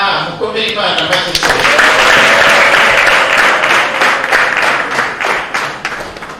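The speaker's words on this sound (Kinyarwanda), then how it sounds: "mukomere Imana amashyi" Wedding congregation in a church applauding together, a loud, dense, sustained burst of clapping that swells and then holds steady, with some voices mixed in.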